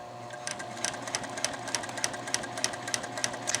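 Juki TL-2010Q semi-industrial sewing machine stitching thick thread, a rapid regular run of sharp needle clicks over a steady mechanical hum, close and fairly quiet, with no talking.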